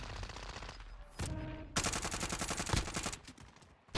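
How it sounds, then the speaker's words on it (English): Rapid automatic gunfire from a multiplayer shooter video game, loud, dense bursts rattling almost continuously with short pauses between volleys. "Everybody on the map shot me"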